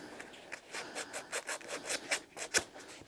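An old shoe's rubber sole rubbed back and forth across sandpaper to clean it, giving a run of close, dry rasping strokes in a steady rhythm, with one sharper scrape near the end.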